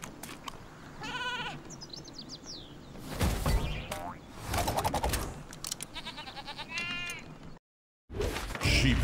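Sheep Creep enemies bleat repeatedly in a Skylanders Trap Team game battle, wavering sheep cries mixed with bursts of combat noise and cartoonish boings, briefly cut by a moment of silence.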